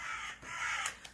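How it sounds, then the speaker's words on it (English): Crows caw harshly in the distance, a couple of rough calls against a faint background. "Goodness me, those crows are noisy today."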